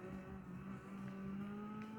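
Simulated Audi A2 with a tuned engine and suspension in Gran Turismo 5, lapping the Nürburgring: a steady, sustained engine drone holds at a constant level throughout, with no talk.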